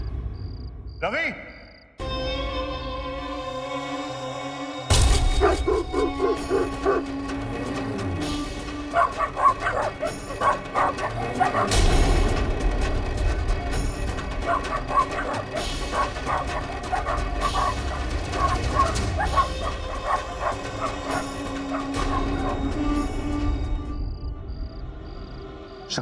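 Several dogs barking and yipping in a scene from a Hindi TV drama, loud excited barks in a dense cluster with whimpers mixed in, over background music and sound effects, with voices heard along with them.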